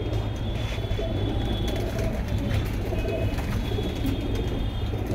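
Giribaz pigeons coo in low, continuous murmurs over a steady low rumble, fairly close, with a faint high tone running through the background.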